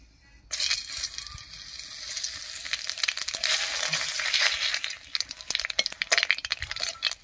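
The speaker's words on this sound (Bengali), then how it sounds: "এবারে এই তেলের মধ্যে ফোড়ন দেব, আর ফোড়ন দেব একটা শুকনো লঙ্কা, তেজপাতা আর গোটা জিরা দিয়ে।" Dried red chilli, bay leaf and whole cumin tempering in hot oil, a bright crackling sizzle that bursts in suddenly after a brief quiet start and carries on steadily, with sharper spitting pops toward the end.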